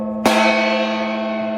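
A single soft metallic strike at the start, followed by a long shimmering ring that slowly fades, heard alone.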